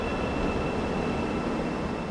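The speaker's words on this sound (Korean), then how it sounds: "새로운 지하철이 들어옵니다. 서울역 방향으로 가는 전동차인데요." Subway train heading toward Seoul Station pulls into a metro platform, a loud, steady rushing rumble of the carriages with a thin high whine running over it.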